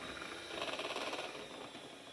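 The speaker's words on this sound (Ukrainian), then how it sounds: "Збиваємо міксером 100 г вершкового масла до посвітлішання." A hand-held electric mixer whips 100 g of softened butter, giving a steady whirring hum with a fine rhythmic rattle from the beaters turning in the bowl, close up and continuous throughout.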